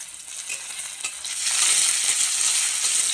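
Tomatoes dropped into a pan of fried onions, a bright crackling sizzle that swells louder partway through and then holds steady, close and alone with no talk.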